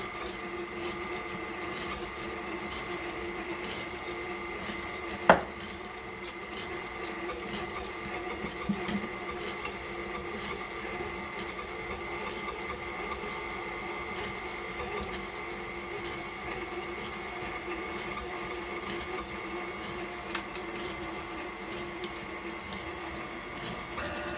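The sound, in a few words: electric kitchen mixer on low mixing sponge cake batter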